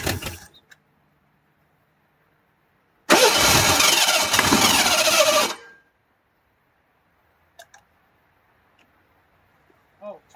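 Burnt, busted 1980s Ford Bronco II engine cranking and briefly catching, a loud rough burst of about two and a half seconds that cuts out, surrounded by near silence and faint clicks.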